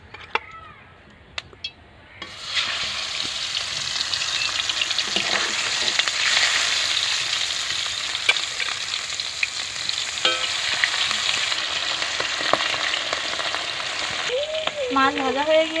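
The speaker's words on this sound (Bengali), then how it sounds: "এবারে মাছ দিয়ে দেবো" Batasio fish frying in oil in a wok for a spinach curry: a quiet start, then a loud, steady sizzle and crackle that runs to the end, with a few scattered clinks of stirring.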